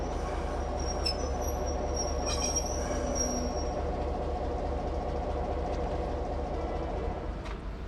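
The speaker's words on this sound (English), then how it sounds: "4818, built by General Motors Diesel Limited in 1964 as DA Class 1481, was converted to a DC Class locomotive by Clyde Engineering in 1983." A DC class diesel locomotive, number 4818, built by General Motors Diesel in 1964, passes by on the Glenbrook Vintage Railway with a loud, continuous rumble of engine and wheels and brief high squeals from the rails.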